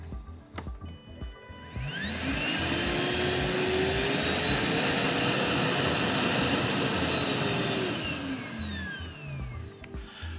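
A Festool CTMC SYS cordless dust extractor spins up with a rising whine, holds a loud steady suction roar with a high motor tone, then winds down near the end.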